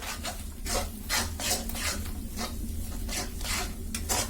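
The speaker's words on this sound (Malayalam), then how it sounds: "ഇതേ നമുക്കിതൊന്ന് ശരിക്കും ഇളക്കിയെടുക്കാം" Rhythmic stirring of eggs in a pan for green peas masala, a utensil scraping back and forth in regular strokes about twice per second, close and steady over a low sizzle with no talking.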